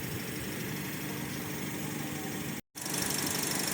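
A steady, even engine hum from a 2018 Toyota Vios 1.5G idling runs throughout, broken by a brief silent gap near the end before resuming at the same level.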